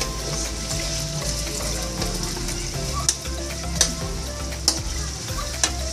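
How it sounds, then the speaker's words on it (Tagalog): Chicken pieces fry in a pan until golden, with garlic and onion added, giving a dense, close, constant sizzle. A few sharp ticks from utensil taps are spaced about a second apart. "Kumbaga, medyo ipapry po natin siya. Pag golden brown na, doon po tayo mag-ibisa ng mga bawang,"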